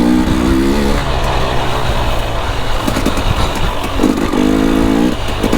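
A new dirt bike engine drones and revs while riding, a loud, close buzzing roar with rising pitch sweeps during throttle changes, steady throughout with no talk.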